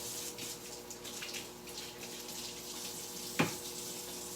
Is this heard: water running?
yes